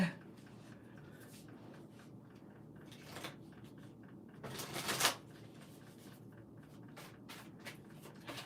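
Tarot dream cards being shuffled, a steady soft rustle and riffle of card stock running through the clip, with a louder flurry of cards near the middle and faint handling sounds around it.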